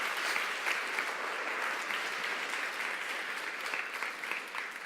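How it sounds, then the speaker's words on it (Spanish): Audience applause at a church gathering, steady and sustained clapping from a crowd throughout, fairly even in level with no talk over it. "le damos un aplauso a la palabra de Dios"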